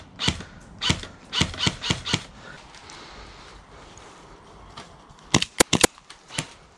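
Airsoft guns fire in short bursts during a skirmish at Warminster, with a cluster of sharp snaps early on, a quieter stretch, then a fast volley of close, crisp shots near the end.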